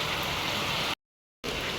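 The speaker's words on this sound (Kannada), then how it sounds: "ಜೋರು ಮಳೆ ಬರತೈತ್ರಿ" Heavy rain pours down in a dense, loud, continuous hiss. It breaks off abruptly for a moment and then resumes just as strong.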